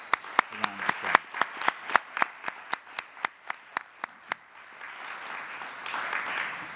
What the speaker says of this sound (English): Please join me in giving our regents a round of applause.